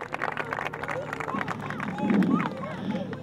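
A crowd applauds volunteers at a volunteer fire brigade emergency drill in Libertador San Martín, with scattered clapping and murmuring voices that swell into a brief burst near the end, heard at moderate distance.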